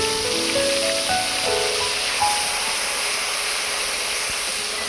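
Onion paste frying in hot mustard oil in a pan, a steady loud sizzling hiss with no pauses and brief faint tonal clinks early on.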